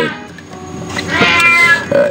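Kitten meowing in an Oculus Rift virtual reality game, a single drawn-out high mew lasting about two seconds, close and clear with a rising tail.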